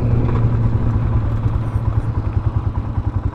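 Truck engine with an aftermarket cam revving hard, a loud close low rumble with a pulsing, lopey beat that rises and grows choppier toward the end, no voices heard.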